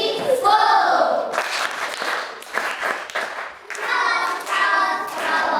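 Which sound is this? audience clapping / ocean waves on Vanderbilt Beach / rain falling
audience clapping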